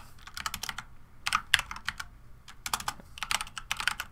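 Computer keyboard typing comes in quick irregular bursts of close, crisp key clicks, pausing briefly between runs, with no voices.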